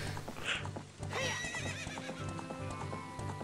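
Epona the horse in Ocarina of Time gives a bright whinny over steady clip-clop hoofbeats, with game music playing underneath.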